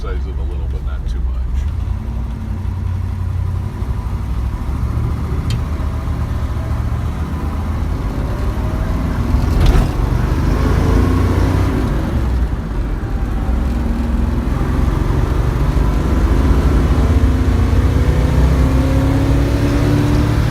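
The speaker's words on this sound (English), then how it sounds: "we're going to go out on 57 and take it up to speed a little bit" A 1968 Chevy Camaro engine hums steadily from inside the car as it gathers speed on the road, with a rising drone under continuous road noise and someone talking over it.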